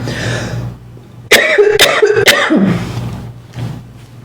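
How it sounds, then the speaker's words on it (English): Three sharp coughs come in quick succession, close and loud, followed by a brief throat-clearing rasp before things quiet down. "I'm going to cough really quick."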